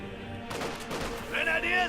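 Brief bursts of battlefield gunfire from the Company of Heroes 2 game crackle in quick succession over a couple of seconds, moderately loud and mixed with in-game combat noise.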